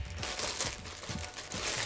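A plastic bag crinkles close up, with continuous rustling and crackling as it is handled and squeezed for about two seconds. No one speaks.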